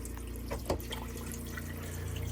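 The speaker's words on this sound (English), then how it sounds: "let's get the water out of the tank" Water draining out of a boat's tank into a steady wash of running, trickling liquid, with a brief louder splash early on and a constant low hum underneath.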